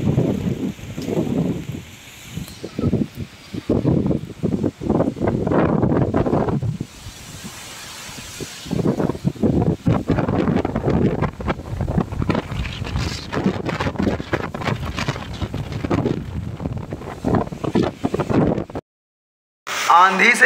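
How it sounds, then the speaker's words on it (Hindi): A strong windstorm roars and gusts through a village, buffeting the microphone loudly and steadily for most of the stretch, with someone speaking over it. "अभी आंधी आ रही है दोस्तों"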